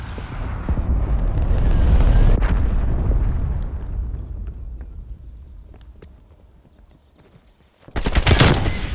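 A cruise missile strike in Call of Duty lands as a loud, rolling explosion whose rumble swells and then slowly fades over several seconds, followed by a sharp new burst of noise near the end.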